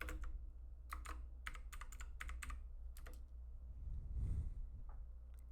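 Steady, close typing on a computer keyboard, clusters of quick key clicks in irregular bursts over a low constant hum, with no talk.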